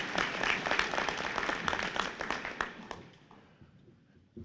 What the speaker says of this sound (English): No, we can't have just one applause. We got to have the whole for these guys.